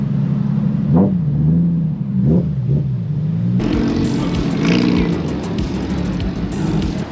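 A modded car, either an A90 Supra or an R34 GTR, idles with a deep rumbling exhaust and a few sharp throttle blips, then the engine note thickens into louder revving with added rattling, close by.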